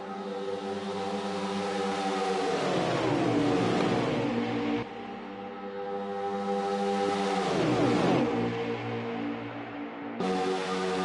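Stock cars racing at Talladega in a video game: a steady engine drone with two long passes whose pitch sweeps downward around three and eight seconds, loud and continuous with no voices.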